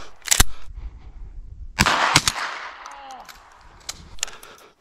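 A couple of sharp, close gunshot cracks ring out while ptarmigan hunting in the James Bay bush, each followed by a short echoing decay, with faint voices in between.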